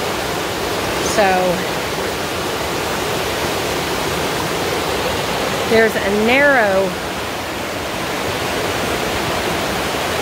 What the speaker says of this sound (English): That right there is going to be my shallowest part, but it's also going to be the fastest moving water.